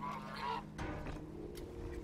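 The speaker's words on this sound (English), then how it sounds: "Got you, you filthy goose" Goose in The Unfinished Swan video game gives a few short nasal honks in quick succession, moderately close, followed by fainter scattered calls.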